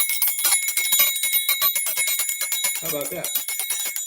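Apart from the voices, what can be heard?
dinner bell ringing to call dog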